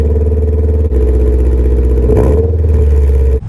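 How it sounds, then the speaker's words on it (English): Honda Civic with its D-series engine idling steadily after start-up, a loud, close, even mechanical drone that holds throughout with a brief dip near the start and a cut at the end. "I feel it is right that we get one last startup with the D series"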